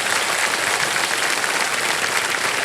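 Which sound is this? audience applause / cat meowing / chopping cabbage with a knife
audience applause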